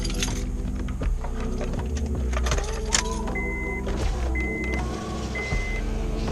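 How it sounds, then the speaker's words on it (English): A 2006 Acura MDX power window motor runs on test with a new regulator, giving a steady whirring hum with a few brief higher tones and small clicks over several seconds. "Let us test the motor"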